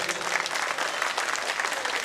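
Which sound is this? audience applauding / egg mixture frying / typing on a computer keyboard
audience applauding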